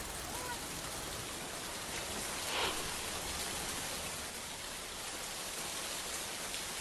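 Heavy, continuous rain falls during persistent downpours in Jaipur, a dense steady hiss with no breaks, fairly faint and even throughout.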